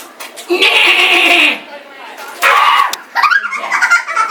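A voice imitates goats with drawn-out, wavering bleats, three in a row, loud and close, with laughter-like breaks between them.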